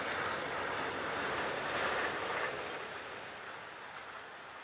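A Class E474 electric locomotive, number 189-822, rolls past on rails with a loud, broad rushing roar that swells mid-pass and then slowly fades as it moves away, no voices.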